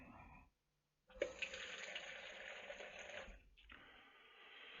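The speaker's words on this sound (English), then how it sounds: "then you simply put in your water and stock." Water pours steadily into a slow cooker for about two seconds, a splashing stream that pauses briefly and then resumes, close and clear with no talking.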